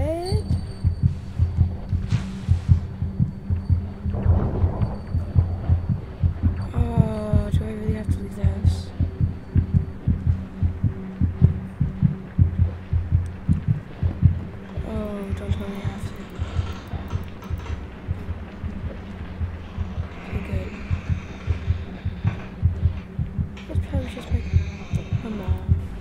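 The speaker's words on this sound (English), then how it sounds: "This whole heartbeat thing is fairly accurate to reality." Heartbeat from the horror video game Among The Sleep: a steady, low rhythmic thumping that continues through the whole stretch, with game sounds over it and brief bursts of talk.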